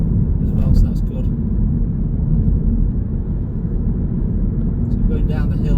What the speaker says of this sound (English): So we're going down the hill in 6th gear at the moment.